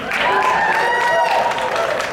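A convention audience at a Supernatural fan event in Las Vegas claps in a sustained round of applause, full and close, with cheering voices mixed in.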